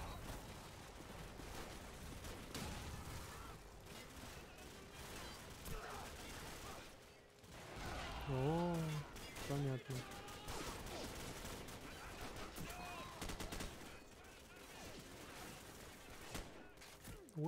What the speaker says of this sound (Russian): Ух, ебать, тут пулемет есть.